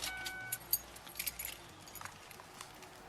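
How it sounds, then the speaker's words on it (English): A set of car keys jangles in a brief burst of metallic clinks, close and moderately quiet over a low steady background hum, with no talk. "Turn off the car and pass me the keys, please."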